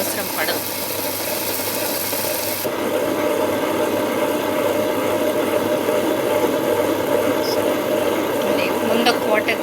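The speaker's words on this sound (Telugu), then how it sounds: "ముందు ఒక గ్లాస్ వాటర్ పోసుకున్నాక పప్పు వేసి ఇలా ఇప్పుడు గ్రైండ్ అవుతుంది." An electric wet grinder churning soaked lentils and water into batter with a steady, close whirring rumble and gritty rubbing that runs unbroken throughout, with a few faint clicks near the end.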